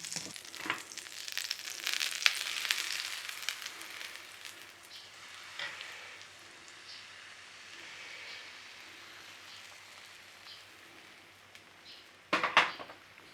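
Traditional Staffordshire oatcake batter frying in fat in a pan, a soft hissing sizzle that swells and fades, with a few faint clicks and a sharper clatter near the end, no voices.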